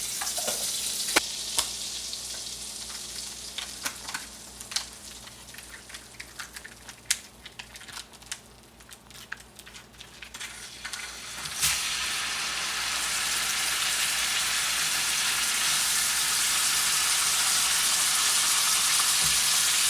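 Pork tenderloin fries in a pan with butter and spices, starting with scattered crackles and pops and building into a steady, loud, close sizzle with no voices.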